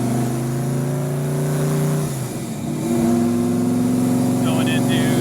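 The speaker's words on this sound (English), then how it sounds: "Going into third gear, going over the bumps." A 1993 Ford Mustang accelerating on a street, engine note climbing steadily, dipping briefly at a gear change around halfway, then pulling again loud and close throughout.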